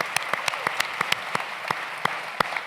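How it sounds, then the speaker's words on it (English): Sparse applause from a small audience at a moderated talk, with a dozen or so separate, distinct claps spread across a couple of seconds rather than a dense ovation, moderately close. "Y'all give Cheryl a big round of applause."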